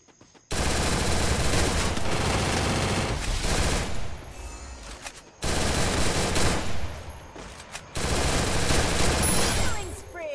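Three long bursts of rapid automatic gunfire from the Garena Free Fire battle-royale video game, each loud and sustained with brief lulls between them.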